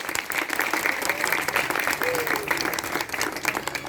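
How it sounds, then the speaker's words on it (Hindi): A church congregation claps loudly during a sermon, steady fast clapping for about four seconds, with a few voices and faint murmuring mixed in. "खुदा के जलाल के लिए जोरदार तालियां बजाएं।"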